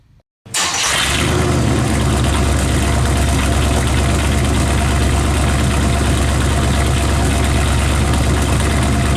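A 1982 Chevy Monte Carlo engine catches after a brief silence and settles straight into a steady, loud, rumbling idle that holds evenly throughout with no voices over it.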